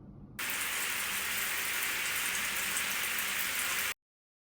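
Rain during storm Eowyn, a steady broadband hiss of heavy rainfall starting abruptly and holding even and constant for several seconds before cutting off, with no voices.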